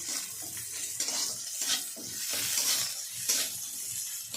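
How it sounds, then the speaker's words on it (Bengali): Onions frying in hot white oil in a pan for a Bengali potato chop recipe, a steady bright sizzle with repeated stirring scrapes and spoon knocks, close and continuous with no talking. "তেল গরম হয়ে গেছে, পেঁয়াজগুলো দিয়ে দিচ্ছি। পেঁয়াজগুলো ভালো করে ভেজে নেব।"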